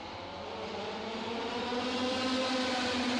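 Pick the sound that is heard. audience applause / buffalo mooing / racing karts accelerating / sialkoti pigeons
racing karts accelerating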